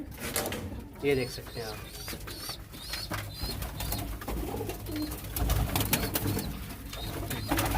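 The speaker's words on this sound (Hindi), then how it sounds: "मैं आपको दिखाता हूँ अपने जोड़े वाले कबूतर जो हैं" Paired pet pigeons coo nearby in low, rolling bursts with a brief flutter of wings, while someone talks over them throughout.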